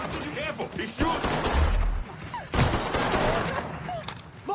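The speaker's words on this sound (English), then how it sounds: "He's shooting!" Gunfire in the Mafia III video game, rapid bursts and crackling shots with booming low impacts, loud and close, with people shouting over the battle.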